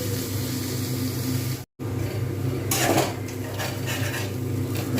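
A spoon works through a softening vegetable filling for prawn and bottle-gourd-leaf pakoras in a pan, giving close, continuous scraping and clinking with a brief break partway through.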